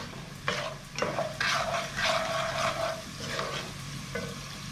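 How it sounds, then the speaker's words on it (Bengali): Carrots being stirred in a hot pan for fried rice, with repeated scraping strokes of a spatula and a soft sizzle underneath, close and clear with no talking. "2 থেকে 3 মিনিট গাজরটা ভালো মতো নাড়াচাড়া করে নেব।"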